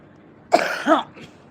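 Two quick, harsh coughs close up, the second slightly rougher, followed by a short quiet breath.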